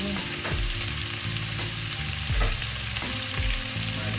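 Tomatoes sautéing in a pan for pork sinigang: a loud, continuous sizzle and crackle of frying, with occasional soft knocks from stirring.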